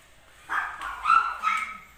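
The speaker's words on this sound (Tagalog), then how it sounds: "Maingay yung doggy" A small dog yaps and whines in a few short bursts indoors at home, close by, with a faint voice in the background.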